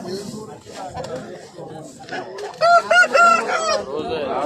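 A large rooster crows nearby, a loud drawn-out call near the end, with chickens clucking and people talking throughout at a market.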